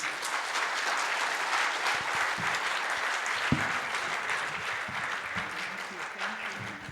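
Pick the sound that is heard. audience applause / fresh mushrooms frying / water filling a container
audience applause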